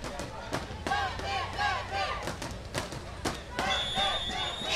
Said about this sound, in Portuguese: E a torcida vem junto, escuta aí, ó.